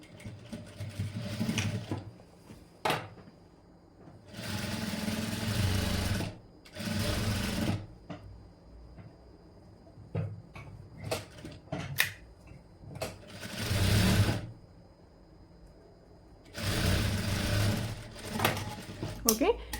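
Sewing machine stitching a blouse, running in several bursts of whirring, clattering needle action a few seconds each, loud and close, with short pauses between runs.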